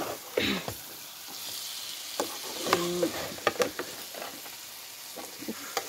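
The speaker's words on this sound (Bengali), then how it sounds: "দেখতে পাচ্ছেন চিকেন কষাচ্ছি" Chicken pieces stirred and fried in a pan, with a steady sizzle, scraping stirs of a utensil against the pan, and a few sharp clinks and taps, close and fairly quiet.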